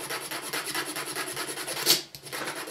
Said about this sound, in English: We're gonna grind the brass into a powder.